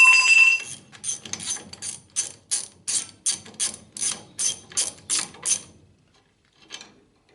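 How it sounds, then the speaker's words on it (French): A ratchet loosens the nut on the front ball joint of a Citroën Traction, clicking close up in about fifteen evenly spaced bursts that stop abruptly, followed by a faint metallic tap. "On débloque l'écrou."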